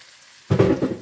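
Garlic dropped into hot oil in a pan, silence then a sudden burst of loud sizzling that continues to the end.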